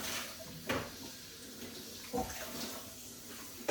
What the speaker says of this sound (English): I'm just going to rinse this one out and set it to the side.